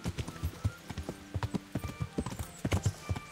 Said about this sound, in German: Na gut, dann reiten wir weiter.